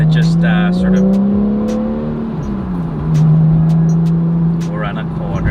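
Porsche 911 50th anniversary edition engine driving around a corner, a steady close drone that rises and falls with revs, with a person talking over it.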